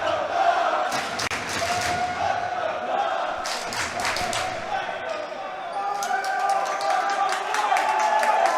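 Fans cheering at an Oshawa versus Victoria men's hockey game, steady crowd noise with claps and shouts swelling in waves over about nine seconds, with sharp percussive knocks at intervals.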